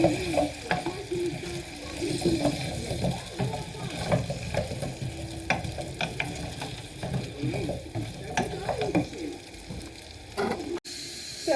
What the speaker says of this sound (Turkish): soğan ve havuçlarımız kavrulduktan sonra patateslerimizi de ekliyoruz